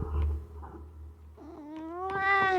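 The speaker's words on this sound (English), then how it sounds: "He's not really screaming, but he is meowing directly in the mic" Close, loud cat meow right against the microphone, a rising, drawn-out harmonic cry building over the last second after a few softer rustles and low rumble, with no talking.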